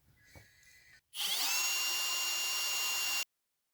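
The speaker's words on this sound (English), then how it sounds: "And I'm just gonna drill a hole." A power drill spins up sharply and whines steadily at high pitch for about two seconds while drilling a hole in soft aluminum, then stops abruptly, after a few quiet handling noises.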